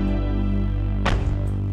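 A higher-pitched tom drum sample standing in for the snare in a UK drill beat, heard as a single sharp hit over a sustained low bass tone, with no voices.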